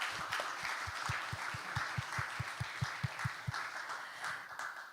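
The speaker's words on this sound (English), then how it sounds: "I would like for a round of applause for everyone who has joined us here today." Audience applause at a Eurasian IT forum, a broad, steady wash of clapping from many people in a hall, with a distinct rhythmic clap pulse running through the middle and no voices on top.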